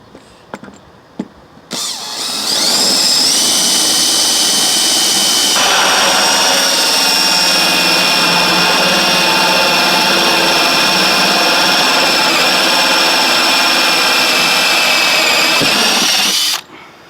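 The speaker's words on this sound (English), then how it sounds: "I'm just going to use the hole saw to get close to my inner circle." A power drill drives a hole saw through the wood of a cabinet being built into a reptile enclosure. It runs as one loud, sustained whirring cut that starts after a few short knocks and stops abruptly near the end.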